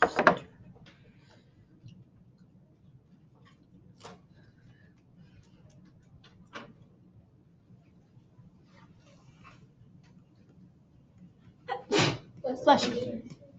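A single sharp sneeze in a quiet classroom during a maths lesson, loud and close near the end, followed by a short burst of talk; faint ticks and taps come earlier against low room hum.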